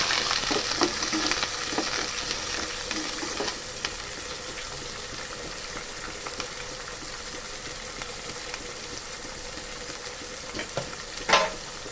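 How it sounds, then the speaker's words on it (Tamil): Onions sautéing in a pan for a Tamil fish dish after fenugreek seeds, a steady soft sizzle with occasional scraping stirs and a sharper clatter near the end, no talking. "இப்போ வெங்காயம் சேர்த்துக்கலாம். நல்லா வதக்கி விட்டுக்கலாம்."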